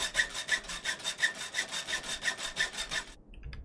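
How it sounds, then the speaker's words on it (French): A saw cuts through wood in The Long Dark survival game, about fourteen even back-and-forth rasping strokes in steady rhythm, close and clear, then stopping abruptly. "La scie, faut pas la casser, hein."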